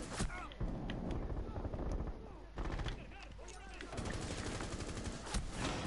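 Rapid machine gun fire in a video game, dense bursts of shots near and loud, broken by short pauses, with a voice talking over the gunfire.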